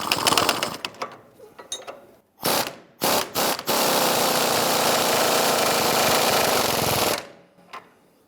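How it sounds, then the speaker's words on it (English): A ratchet or power tool with a 21mm socket tightens a front strut bolt on a 2005-2010 Chrysler 300. A few short loud bursts lead into a sustained, close mechanical whir lasting several seconds, with no talking. "on this side here, we're going to use a 21mm socket to go ahead and tighten that down."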